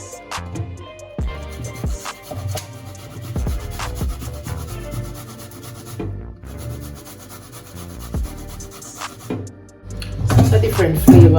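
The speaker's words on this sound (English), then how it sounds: "so I'm gonna grate up my coconut" Coconut being grated by hand for a Jamaican Christmas coconut fruit cake, with repeated rough rubbing and scraping strokes in an uneven rhythm, close and moderately loud, and a louder burst of scraping near the end.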